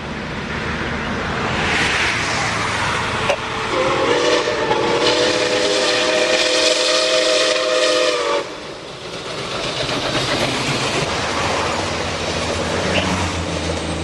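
Steam locomotive 261, a big 4-8-4, running past at a steady 60 mph, its whistle sounding a long sustained blast over the continuous roar and rumble of the passing train.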